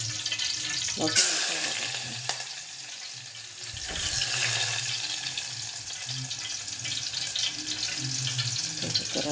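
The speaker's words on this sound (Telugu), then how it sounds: "ఆయిల్ వేడెక్కింది మటన్" Mutton frying in hot oil, a bright crackling sizzle that starts abruptly after a second and keeps going, with scraping and stirring noises under it.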